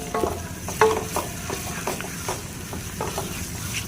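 Garlic, ginger and green chili paste sizzles steadily in a karahi for beef karahi, with a spoon stirring and scraping through it in scattered taps; close and continuous, with no talking.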